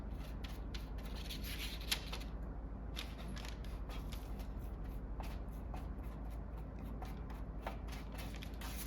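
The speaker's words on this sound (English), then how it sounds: "I can go ahead and brush it on with a little paintbrush" A little paintbrush spreads beeswax over a pine needle basket, giving soft, repeated dry brushing strokes over a faint steady background hum, close and quiet, with no talking.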